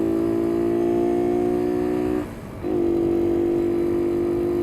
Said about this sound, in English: Listen to this bike.